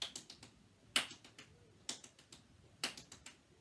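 Crisp hand claps and sharp taps in a tap dance class, a few loud isolated claps spaced about a second apart with lighter quick taps between them, close and otherwise quiet.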